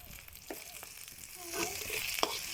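Chopped onion and sliced green chilies fry in hot oil, giving a soft, low sizzle with a few scraping stirs that grows slightly busier toward the end.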